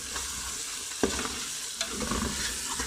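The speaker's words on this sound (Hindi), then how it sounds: "मसाले को अच्छे से हिला लेंगे" Spices are stirred and scraped in a sizzling pan, with a steady frying hiss and a few sharp clinks of the spoon.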